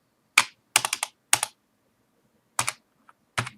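Several separate clicks and short bursts of keystrokes on a computer keyboard while an IP address is entered during router configuration, close and crisp with silent gaps between them.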